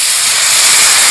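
Spices sizzling sharply as a splash of water hits the hot pan with turmeric, Kashmiri chilli powder and salt, a loud, steady steamy hiss close up with no talk.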